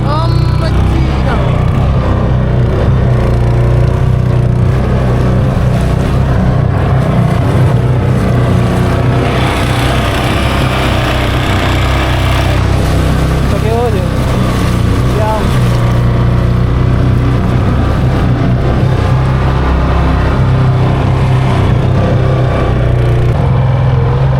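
A boat's engine running at sea as the boat nears shore, a loud, steady low drone with wind and water rush over it and a voice talking at times.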